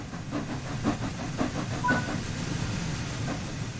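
The Flying Scotsman steam locomotive moving off in Train Sim World 4, steady hissing steam with rhythmic chuffs at a slow, regular pace, mechanical clanks underneath and a faint brief tone midway.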